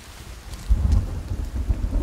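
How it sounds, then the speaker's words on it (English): Rain and a rumbling thunderstorm in a video game, a constant hiss of rainfall with deep low rolls of thunder swelling in and out beneath it, steady and close with nobody speaking. "I could just like sit in this game with just the rain sound and the storm by itself"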